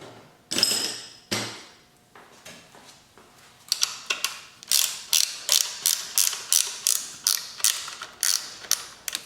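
A socket wrench ratchets on a 1973 Honda CB350F during a cafe racer build: a few scattered clicks and turns, then a quick, regular run of crisp ratcheting strokes close by.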